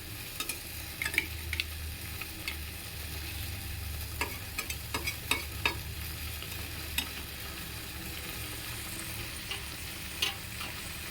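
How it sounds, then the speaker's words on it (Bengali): Pabda fish curry with mustard paste sizzles steadily in a pan while a spoon stirs gently, giving light scraping clicks over the constant bubbling fry, close by with no talk. "এরপর একটুখানি মিলিয়ে নেবো হালকা হাতে কেননা পাবদা মাছ খুব নরম হয়"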